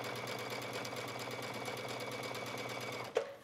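Sewing machine running steadily while stitching a ribbed waistband onto a sporty skirt, a close, even mechanical whir that stops abruptly near the end with a small clunk.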